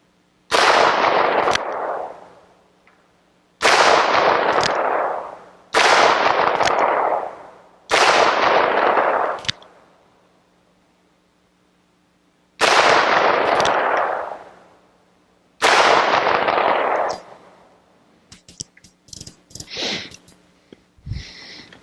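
A Ruger Blackhawk revolver chambered in .30 Carbine fires at clay targets outdoors: six loud, sharp shots with echoing tails, spaced a couple of seconds apart, followed by fainter clatter.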